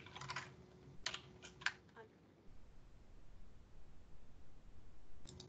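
Rapid keystrokes on a computer keyboard come in a few quick bursts near the start, then stop, leaving faint background hiss until one last brief click near the end.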